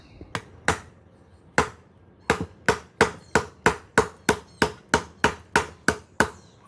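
A 5 Max chopping tool whacks through branches in sharp, loud chops, a few spaced strikes followed by a fast, even run of about a dozen blows, close by and with no speech.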